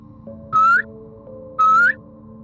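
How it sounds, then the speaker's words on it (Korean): Two long whistled notes, each sliding slightly upward, separated by a short pause over a low steady hum. "휘파람을 폐가 앞에서 술김에 2번을 불었어요"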